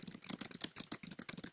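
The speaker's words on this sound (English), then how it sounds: "And just start typing" Rapid, close typing on a computer keyboard, a dense run of light key clicks at an uneven quick rhythm, with no voices.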